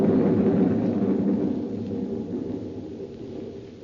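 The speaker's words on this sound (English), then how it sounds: "There was thunder and lightning around me, too" In an audio drama, thunder rolls as a steady, loud, low rumble that slowly fades over a few seconds, with no voices over it.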